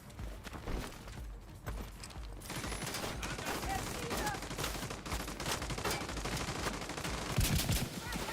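Rockets fire in The Division 2 as a dense, continuous barrage of low booms and crackling blasts, fairly faint and building toward a heavier thump near the end.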